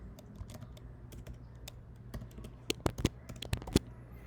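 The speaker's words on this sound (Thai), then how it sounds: "พิมพ์คำถามไป นะครับ" A computer keyboard being typed on to enter a quiz question, with soft scattered keystrokes that thicken into a quicker cluster of louder clicks near the end, over a low background hum.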